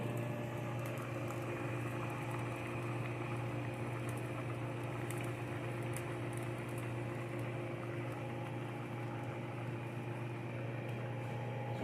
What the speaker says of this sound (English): Now notice it's boiling nice and hard.